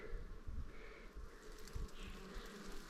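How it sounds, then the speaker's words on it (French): Honey bees buzz steadily around beehives on a hillside track on Fatu-Hiva, a soft continuous drone with passing nearer hums and no talk. "On a des ruches"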